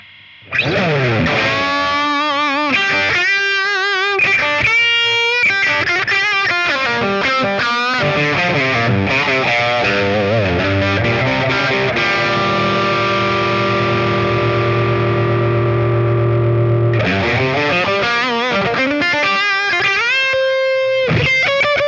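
An overdriven electric guitar through a Fender Pano Verb amp with an Analog Man King of Tone pedal plays a loud, continuous lead line with gritty distortion and shimmering effects, holding a long sustained note before resuming.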